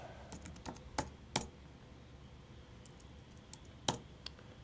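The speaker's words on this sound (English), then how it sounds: "Type in anything you want." Keys on a computer keyboard are tapped as a test password is entered, a handful of close, crisp clicks in two short bursts with quiet gaps between them.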